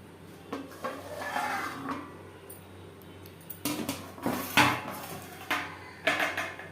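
Clattering metal knocks and scrapes as a lid goes onto a pot of hilsa fish curry in mustard paste, several distinct clanks, close and moderately loud.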